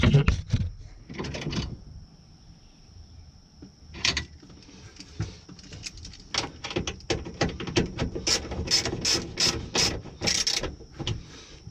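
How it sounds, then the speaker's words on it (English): A small ratchet tightening bolts while installing a Foxbody steering column, near and clear, a few short bursts of rapid clicking early on, then a long run of fast ratcheting clicks with brief pauses. "is one of those places where I use my little ratchet"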